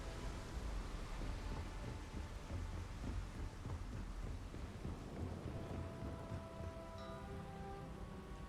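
A thunderstorm over Neon, a lightning-powered city in the Starfield video game: steady, dense rain with deep rolling thunder running throughout, fairly soft and continuous, with no talk.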